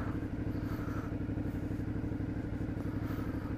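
A motorcycle with a new engine still being worn in idles close by with a steady, rapid, clattering pulse, even and moderately loud throughout, with no talking.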